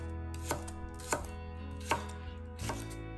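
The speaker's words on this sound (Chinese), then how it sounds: "将其切成5厘米左右长的段。 再改切成细的条" A knife chops fresh celery into thin strips on a cutting board, four distinct, fairly loud chops at an uneven pace over a low steady background hum.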